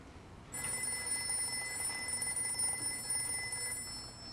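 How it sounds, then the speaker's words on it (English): A telephone rings in a Jack Reacher film scene, a steady electronic trill running continuously over a low hum of room tone, clear but not loud. "and then the phone starts ringing"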